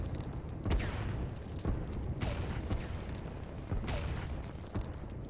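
Artillery fire in the Line War video game, a run of muffled booms spaced about a second apart over a constant low rumble.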